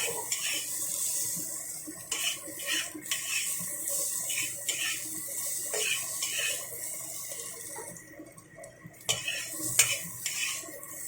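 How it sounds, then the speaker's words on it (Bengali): A spoon scrapes and clinks steadily around a pan as spices are stirred for a rohu fish curry, with a faint watery sizzle underneath and no talking. "মশলার সাথে নাড়াচাড়া করে কষিয়ে নেব"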